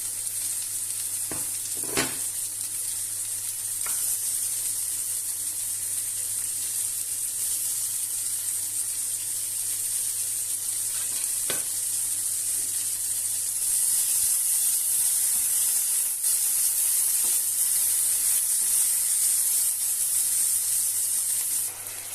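Continuous loud sizzling of potatoes frying in a hot pan, steady throughout with a few faint scrapes and clinks of stirring.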